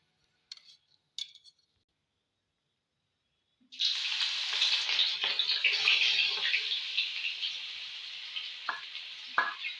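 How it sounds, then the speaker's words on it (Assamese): Silence and a couple of faint taps come first, then a blended onion, garlic and ginger paste lands in hot oil and erupts into a loud, sustained hiss that eases slightly, with a few sharp clinks near the end. "সেইখিনি প্ৰথমতে ইয়াত তেলত দি দিম"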